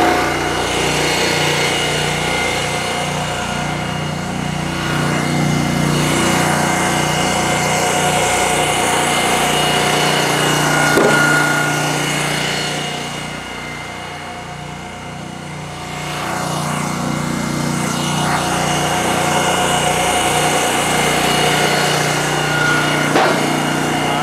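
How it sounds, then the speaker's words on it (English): A small gasoline engine on a hydraulic log splitter drones steadily with a throbbing low pulse, its pitch sagging and load audibly dropping midway as the motor bogs under the pump's second stage, then recovering; no voices. "you're gonna wanna run it till you hear that motor just start to bog before it kicks into the second cycle"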